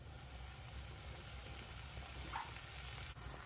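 Buttered bread slices frying on a stovetop for grilled cheese, a steady low sizzle and crackle running throughout, fairly quiet and close, with no voices.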